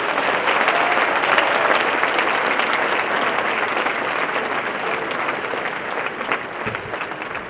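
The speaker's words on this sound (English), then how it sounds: "So let's welcome him with a huge round of applause." A large audience applauds a civil services speaker, an IAS officer, with sustained, even, loud clapping that fills the room for the whole stretch without letup.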